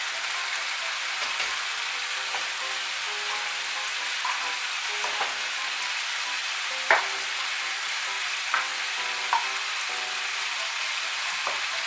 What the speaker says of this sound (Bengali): মেশানো হয়ে গিয়েছে, এর মধ্যে আমি এখন সামান্য একটু জল দেব।